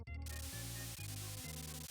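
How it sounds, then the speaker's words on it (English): The spray tool in the Mario Paint video game gives off a harsh, hissy static burst that repeats in a steady rhythm of short pulses, each with a low buzzing tone underneath, loud and close. "The spray tool makes it sound like my mic is the lowest quality possible."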